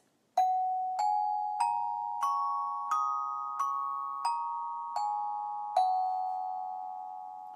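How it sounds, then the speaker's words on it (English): Tone chimes (hand-held tone bells) play a pentatonic scale, nine clear ringing notes struck one by one at an even, unhurried pace, each decaying into the next, close and alone. "And the pentatonic scale sounds like this."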